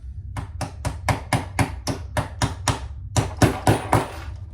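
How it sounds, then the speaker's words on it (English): A small hammer taps about a dozen times in a steady rhythm, close and crisp, setting prongs while making a sling pouch, with a brief pause before the last few harder blows. "Let me grab my little hammer"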